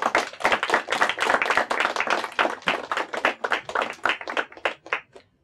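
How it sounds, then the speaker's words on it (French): Audience at a French-language school quiz show applauding the competing teams: loud, close hand clapping in a brisk rhythmic burst that thins out and stops near the end. "On les applaudit bien fort, s'il vous plaît."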